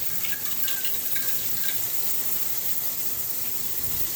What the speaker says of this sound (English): turn the water on like that